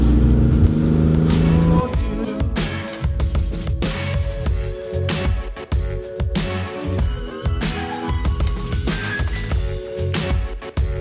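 A car fitted with a new side-exit exhaust drives along, a loud engine note rising and falling with gear changes and revs that fill the scene from start to end.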